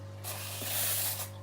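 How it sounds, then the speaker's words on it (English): A spray bottle hissing steadily for about a second, close by, misting water onto tarantula enclosure substrate over a constant low electrical hum. "I'm going to spray this substrate down in that case a bit"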